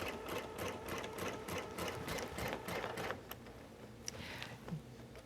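An embroidery sewing machine stitches a basting stitch on knit fabric backed with tricot stabilizer, running as a fast, steady mechanical chatter that fades into lighter clicks near the end.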